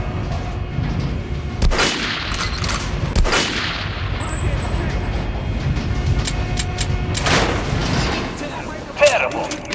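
Gunshots fired at a training dummy on a shooting range in Metro: Last Light Redux, a few sharp loud cracks spaced apart over background game ambience, with a voice speaking at points.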